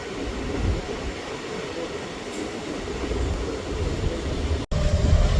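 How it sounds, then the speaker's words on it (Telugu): A MEMU train running between Vijayawada and Rajahmundry rumbles steadily from inside the coach, with a continuous low rolling drone and a brief dropout near the end. "మన ట్రైన్ ప్లాట్ఫామ్ మీదే ఊపు అందుకుంది"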